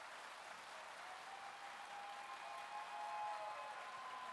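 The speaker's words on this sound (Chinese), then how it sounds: "感觉上掌声不够热烈" Audience applause after a choir's performance at a church concert, a steady, fairly faint wash of clapping that swells slightly toward the end, with no voices over it.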